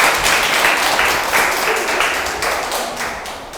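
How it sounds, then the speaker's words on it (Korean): Audience applause at an evening science lecture, a dense, steady wash of many hands clapping close and loud, fading slightly toward the end. "큰 박수 부탁드립니다"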